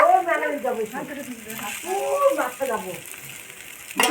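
Chow mein with fried egg, cauliflower and potato is stirred in a pan, its soft frying hiss running under a voice that talks almost continuously over it.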